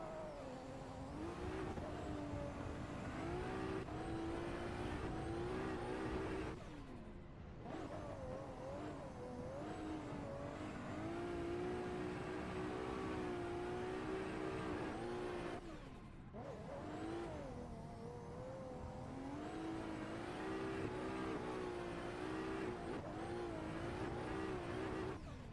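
Car engines rev loudly and steadily in a drifting racing video game, with pitch rising and falling over about twenty-five seconds and two brief drops where the throttle lifts off.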